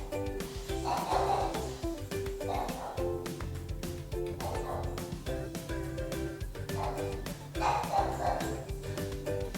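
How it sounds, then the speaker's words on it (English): A pet dog barks repeatedly in short bursts at a fairly steady rhythm, close and loud, while a person talks over it. "But he started barking a lot. Here you can hear him constantly."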